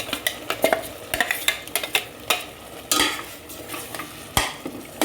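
Ground radish is stirred in a pan over a low sizzle, with a spoon scraping and knocking against the metal in quick, uneven strokes close by.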